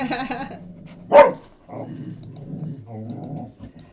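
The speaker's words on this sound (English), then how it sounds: "Naya's already barking." A dog named Naya lets out one sharp, loud bark among softer growls and yips, close by, with a voice talking around it.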